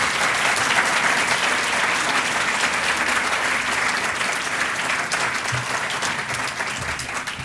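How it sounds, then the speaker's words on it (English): Sustained applause from an audience honoring award recipients at an innovators ceremony, a dense, even clapping that holds steady throughout and fades only slightly at the end. "Let's give these folks a round of applause."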